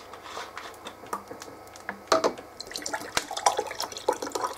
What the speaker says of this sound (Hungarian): Vizet kell önteni.